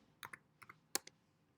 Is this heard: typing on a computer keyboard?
yes